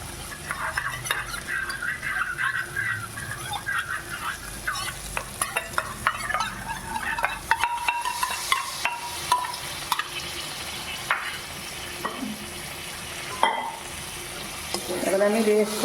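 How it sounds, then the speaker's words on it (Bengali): Matar paneer masala with peas, paneer and sweet yogurt being stirred and fried in a pan, a steady sizzle under repeated scraping of a spoon against the metal, with occasional clinks of utensils throughout. "এবার আমি বেশ করে ওকে কষিয়ে নেব, ছাতলিয়ে নেব, কষিয়ে নেব"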